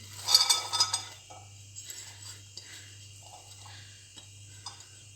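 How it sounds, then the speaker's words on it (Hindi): Red beans tumble into a pan for a lobia chaat, a short burst of clinks and rattles followed by a few faint scattered taps against a steady low hum. "उसके बाद मैं इनमें रेड बीन्स डालूँगी"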